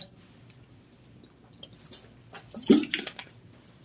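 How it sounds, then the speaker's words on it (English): A person takes a brief sip of water mid-broadcast, a short slurp and swallow standing out faintly once near the end over a quiet room background. "I'm going to take a little sippy of water"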